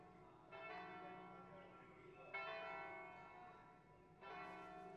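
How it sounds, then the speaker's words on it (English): A church bell rings out over Venice, its layered metallic overtones swelling in three distinct strikes spaced about two seconds apart, each tone lingering and blending with the next, with no voices heard. "And the awesome bell that goes off."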